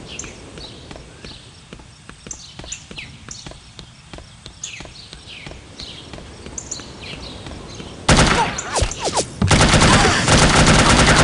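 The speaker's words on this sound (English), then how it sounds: "I must say the shooting is quite okay" Gunfire in the game No One Lives Forever during a rescue mission: scattered sharp shots over steady clip-clopping hooves, building into a loud, dense burst of rapid fire near the end.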